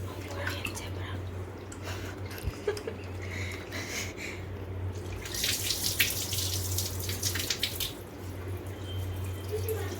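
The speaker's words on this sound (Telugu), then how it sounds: "సో అది కొంచెం వైట్గా అయ్యేంత వరకు వాష్ చేద్దాము." Raw chicken is rinsed under a running tap, a soft steady stream of water with splashing that grows brighter midway, over a low constant hum, with a faint voice in the background.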